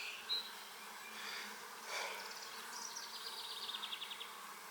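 Honey bees buzz over a beehive frame of capped brood, a steady, close hum with soft wing flutters and occasional louder passes, and a faint chirping trill near the end.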